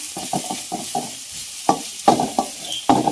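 A spoon stirring frying jackfruit and urad dal in a pan, with quick scraping strokes in short rhythmic bursts over a soft sizzle, close up and with no speech.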